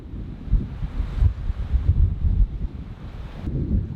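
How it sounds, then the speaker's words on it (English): Wind buffets a sailboat running downwind on calm water, gusting in uneven low rumbles and soft whooshes that rise and fall close to the microphone, with faint water wash beneath. "Just the perfect amount of wind"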